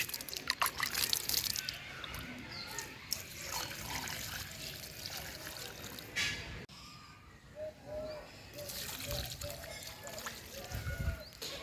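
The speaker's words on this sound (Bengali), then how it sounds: "তো ওইগুলোনেও জল দেবো।" Water trickles and splashes near pomegranate plants as they are watered outdoors, a soft uneven stream with faint birds and a brief low voice in the background.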